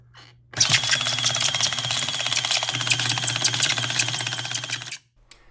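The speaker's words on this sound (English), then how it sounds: "the grinder is out on the bench and I'm ready to apply power to it just to sort of see what happens" A Delonghi Perfecta coffee grinder, broken and unprotected on a workbench, runs on 115-volt power with a loud, steady rattling mechanical whir that starts abruptly, holds for about four and a half seconds, then cuts off.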